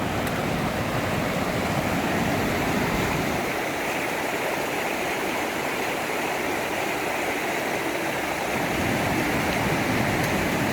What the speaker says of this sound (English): Hey, check it out. It's the top of the waterfall.